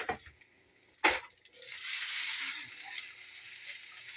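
Pork goes into a pan where onions, carrots, celery and garlic scapes are already frying. A brief clatter is followed by a steady, close hiss of sizzling that swells and holds, with no talking.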